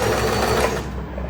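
A sewing machine stitches the pant of a kurti set, running fast and continuously at close range for a short burst, with no one speaking.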